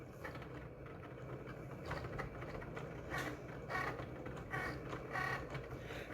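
A Cricut cutting machine finishes a vinyl decal cut, whirring and clicking faintly with a few short mechanical bursts of motor and carriage movement, quiet and close.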